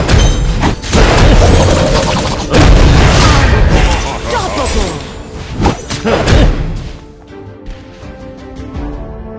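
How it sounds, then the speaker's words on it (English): Fort destruction in the Heroes Evolved video game, with repeated loud booming explosions and thuds layered over busy game effects, strongest early on and then fading into scattered hits under a game announcer's voice. "Your team has destroyed a fort."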